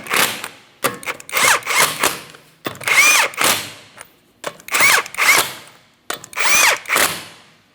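A power tool spins on the 19mm lug nuts of a rear wheel on a 2004-2008 Pontiac Grand Prix, giving loud, close whirring bursts in a rapid series of short pulses with brief gaps.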